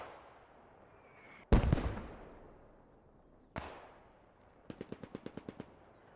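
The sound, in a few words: MG42 and Bren machine gun fire in video game Post Scriptum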